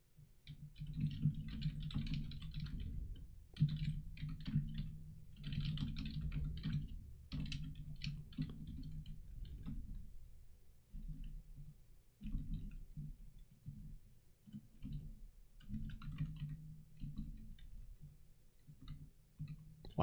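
Computer keyboard typing in steady bursts of close key presses and clicks, with brief pauses between runs, no talking.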